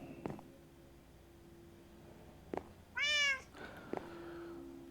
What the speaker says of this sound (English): Got two cats here.